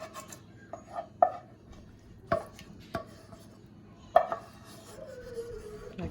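Spatula scraping cheese sauce from a pot into cooked macaroni for baked macaroni and cheese, several sharp scrapes and knocks of utensil on cookware, close up with quiet pauses between strokes.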